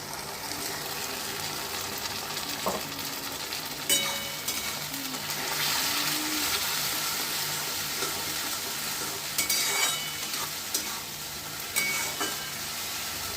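Spice paste sizzles steadily in hot oil while mutton curry is being cooked, a continuous close frying hiss with a few soft stirring scrapes and clinks, and no voices.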